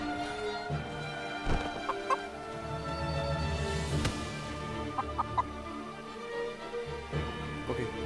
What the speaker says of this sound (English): Okay, you stay there, Mr. Chicken.